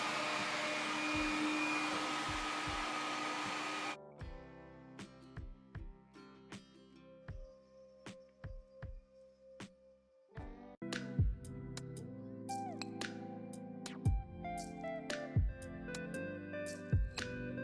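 A Shapeoko Pro CNC router with a Carbide 3D compact router spins up to a loud steady whine, then settles into lighter cutting with repeated sharp ticks and clicks from the machine as it works.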